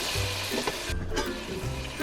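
A shaped burger patty fries in a pan with a steady, close, crackling sizzle that carries on without pause, with no talking over it.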